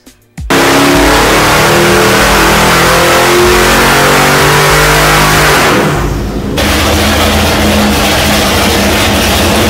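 An LS2 V8 engine fitted with L92 heads, close and very loud, snapping from silence into a hard, sustained rev with a throaty roar, a brief dip, then climbing again, no voices.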